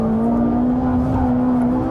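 A Ferrari 458 Italia engine drones at a steady, loud pitch while the car drives on a track, a continuous close interior or onboard engine tone without speech.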